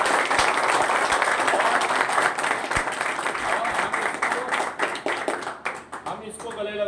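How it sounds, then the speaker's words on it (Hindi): An audience at a recovery birthday celebration applauds loudly, continuous dense clapping that thins toward the end as a voice starts speaking. "जोरदार तालियां"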